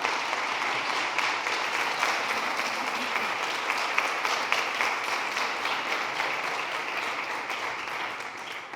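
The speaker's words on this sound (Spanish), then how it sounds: "Un aplauso." An audience at a talk on agriculture and the Agenda 2030 gives sustained, even applause at moderate volume, with a steady wash of many hands clapping throughout and no voices on top.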